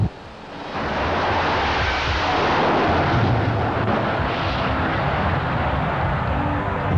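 Jet turbine drag racing car lighting its afterburner off the starting line, a loud, sustained broadband roar that swells quickly and holds steady for several seconds, with no voices.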